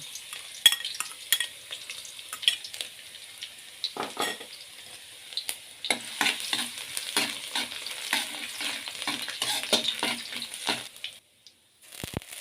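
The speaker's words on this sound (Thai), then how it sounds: "น้ำมันร้อนใส่กระเทียมสับลงไปเคี่ยวให้หอมเลย" Chopped garlic sizzles and crackles in hot oil in a wok while a utensil scrapes and stirs against the pan in irregular bursts, close up.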